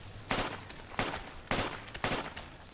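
Airsoft guns fire during a skirmish game, with bursts of shots cracking at a steady, roughly half-second rhythm, fairly close and loud over outdoor background noise.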